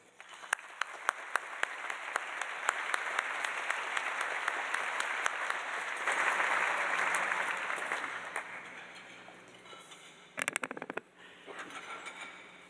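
Steady applause from a dinner audience at a recognition and appreciation dinner, welcoming a dean to the stage, dense and continuous for about ten seconds, swelling midway then thinning into a few scattered claps near the end.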